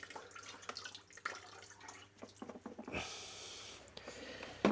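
Water splashes and trickles as it drains from the clogged water drains of a Mercedes W203's flooded engine bay, with irregular drips and gurgles up close, shifting to a steadier rushing flow near the end.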